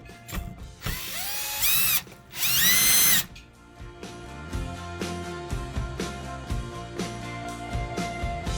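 Screws being driven into a Guarder fingerprint front door lock set with a power drill, two loud whirring bursts followed by a steady run of rhythmic ratcheting clicks close by.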